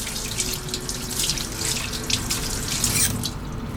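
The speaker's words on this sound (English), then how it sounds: "Let me just wash my hands here real quick." Hands being washed under a running kitchen tap, a steady close rush of water with splashing and dripping, no speech.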